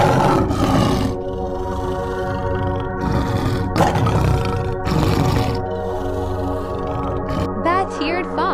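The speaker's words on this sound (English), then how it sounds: "Barbary lion." A Barbary lion gives deep, drawn-out roars and grunts, loud and close, in several heavy bursts that fill the whole stretch.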